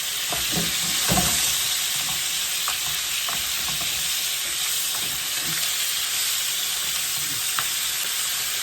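Steady sizzling of food frying in a pan, a constant hiss with occasional soft clicks of stirring, no voices.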